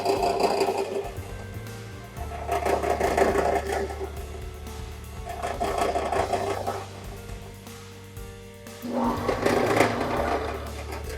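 A secondhand drill press runs with a freshly fitted belt, giving a steady close mechanical hum and whir that swells and eases in repeating waves of vibration, with no voices.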